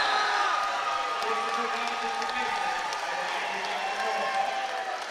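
A wrestling crowd at a district finals cheers and roars in a continuous wash of voices and whoops, fairly close and steady throughout, with a commentator talking over it.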